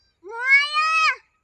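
A peacock calls once, a single drawn-out, nasal, meow-like wail that rises, holds and drops off, loud and close against silence.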